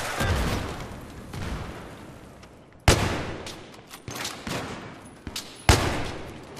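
Gunfire in Battlefield 3 during an online match, a steady crackle of rifle fire punctuated by two loud, sharp nearby shots, with distant bursts trailing off between them.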